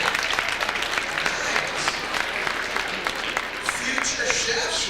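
An audience at a New Jersey State Elks Association peer leadership event claps steadily for several seconds, a dense patter of many hands, while a person speaks briefly over the applause.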